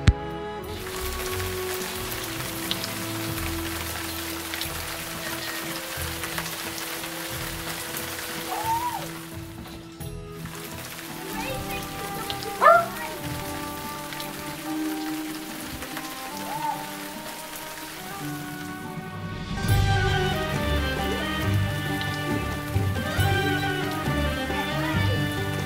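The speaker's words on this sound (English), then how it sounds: "I wish for it to rain so I can jump on the puddles" Steady rain falls and patters on surfaces throughout, a continuous close wash of drops with no speech.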